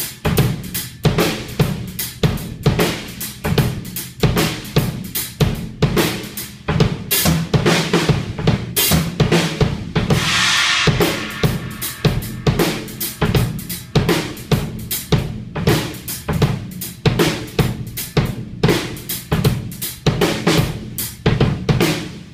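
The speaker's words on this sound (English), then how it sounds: "So I play a halftime shuffle, and then I integrate this into a break-in, and it sounds like this." Drum kit playing a halftime shuffle groove with a Bumtsiom fill worked in as a break, steady dense hits throughout with a brief cymbal-washed fill near the middle, close and loud, no talking.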